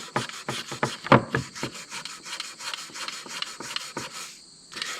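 Fine 2000 grit sandpaper rubbed by hand over the Bakelite surface of a 1959 Mercedes 220SE Ponton radio, brisk rhythmic back-and-forth scratching strokes, close and clear, ending in a short pause and one final stroke.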